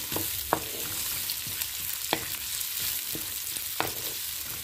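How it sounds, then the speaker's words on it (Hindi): Onions frying lightly in hot oil, a soft continuous sizzle with a few sharp crackles and pops standing out at scattered moments. "सबसे पहले मैंने ऑयल को थोड़ा सा गर्म किया है, अब इसमें प्याज कम करते हैं, इनको हल्का सा भूनते हैं,"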